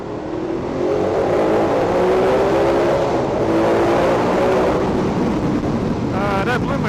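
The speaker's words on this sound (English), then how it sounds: "We might as well do some tunnel exhaust on this going home ride" A Ducati Multistrada 1200 in second gear opens up to partial throttle inside a tunnel, its exhaust roaring loud and close with a rising growl, echoing off the walls over heavy wind buffeting.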